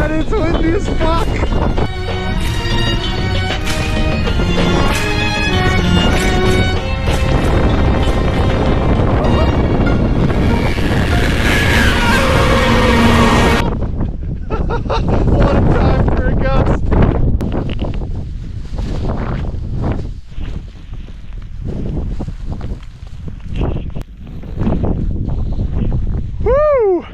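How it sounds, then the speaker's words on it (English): Strong wind on a mountaintop coulee buffets the microphone with heavy roaring gusts, and people talk over it. "On top of the coulee, and it's windy as fuck."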